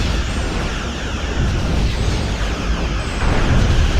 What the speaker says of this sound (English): Phasers are firing, missiles are firing.